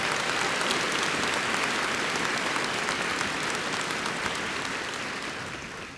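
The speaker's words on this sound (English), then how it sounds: "Please, let's give them a big round of applause." A commencement audience gives the spring 2019 graduating class at Leesburg a big round of applause. The thick, loud clapping fills the hall and fades gradually near the end, with no talking.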